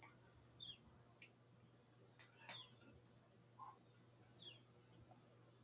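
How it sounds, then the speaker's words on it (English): A few faint, high whistles and chirps from a bird right outside a window come and go against a quiet indoor hum, thin and intermittent. "that's a bird literally right outside my window whistling."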